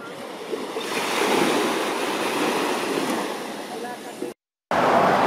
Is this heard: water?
yes